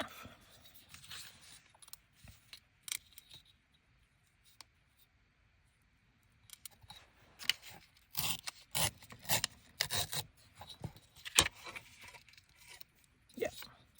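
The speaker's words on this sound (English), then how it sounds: "I think we're just going to cut it in half." Scissors cut through a sheet of recycled paper for a collage art project, a series of close scraping snips and rustles that grow busier in the second half, with quiet handling sounds earlier.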